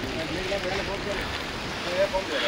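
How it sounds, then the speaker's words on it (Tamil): Strong cold wind gusts across a high Himalayan mountain trail, a steady broadband roar with buffeting on the microphone that swells briefly near the end, with no voices in the foreground. "இப்போ கூட சேர்ந்து காற்று அடிக்க ஆரம்பிச்சிருச்சுங்க"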